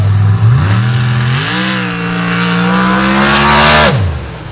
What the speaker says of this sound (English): Now the AMC-powered CJ7, Richard Donovan out of Halifax, Virginia.